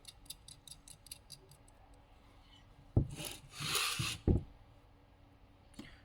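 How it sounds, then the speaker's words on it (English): A screw is driven home during assembly of a Swyft Ascend telescoping elevator, giving a few sharp knocks and rubbing, rasping scrapes close by. Light ticking comes early, and quiet gaps fall between the louder bursts. "once again, tighten down the screw"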